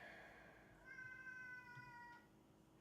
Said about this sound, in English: That's my cat. They're hungry.